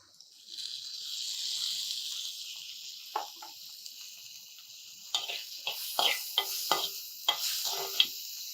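Tomato pieces fry in a pan with a faint, steady hiss of sizzling oil, joined midway by a series of soft scraping stirs from a utensil, with no talking.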